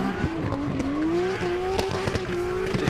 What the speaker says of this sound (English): Definitely a lot of limiter out of Sam Rowson's car